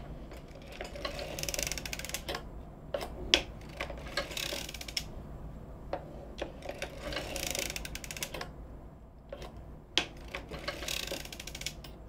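A hand-cranked circular sock machine knits a sock heel from handpainted yarn, producing close, irregular mechanical clicks and clatter in short bursts with pauses between them.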